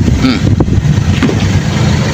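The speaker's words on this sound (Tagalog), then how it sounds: "malakas po kasi hangin ngayon" Strong wind buffets the microphone with a loud, continuous rumbling roar.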